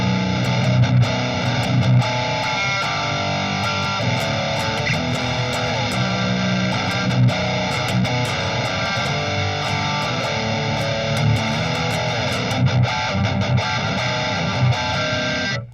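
Electric guitar rhythm playing through a pedalboard, a dense, heavily distorted wall of chords sustained without a break, loud and close with no speech over it.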